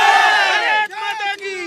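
A crowd of people at a rally shouts in unison, a loud, sustained chanted cry with a long held first call and shorter bursts after it.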